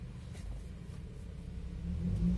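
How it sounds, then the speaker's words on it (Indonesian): A 2015 third-generation Toyota Vios TRD (XP150) with a manual clutch idles with a low, steady engine rumble that swells slightly toward the end, heard alone and fairly quiet. "kalau mau starter, kita mesti injek kopling. Nah, dia langsung nyala tuh"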